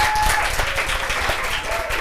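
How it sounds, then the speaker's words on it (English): An exhibition audience claps for an art therapy group, a sustained wash of applause with crowd murmur and voices mixed in underneath. "give the art therapy group a round of an applause."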